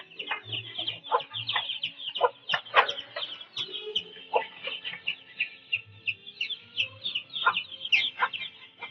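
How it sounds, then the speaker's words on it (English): Young growing chickens on a Kelantan farm cluck repeatedly while feeding at troughs, a busy chorus of short close calls with a few fuller squawks, heard alone without talk. "Young growing chickens eat a lot too, and the troughs must always be kept supplied with food."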